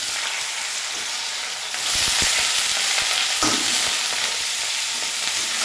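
Cut potatoes frying in hot oil in a pan, a loud, continuous close sizzle that grows fuller partway through, with occasional stirring clicks and no talking.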